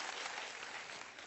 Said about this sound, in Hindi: सिर्फ तालियां नहीं जोर से होनी चाहिए